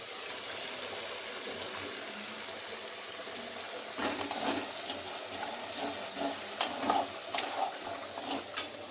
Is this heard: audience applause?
no